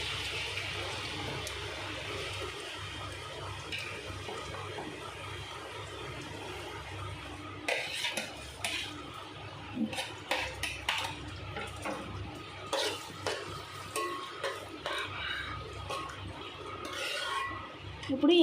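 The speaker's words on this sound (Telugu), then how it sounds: "ఇప్పుడు ఈ ఆనియన్ని బాగా ఫ్రై అవనిద్దాం" Chopped onions and green chillies sizzle in hot oil in a pan for goat blood and boti curry, a steady frying hiss with intermittent scraping and clinking of a spoon stirring against metal.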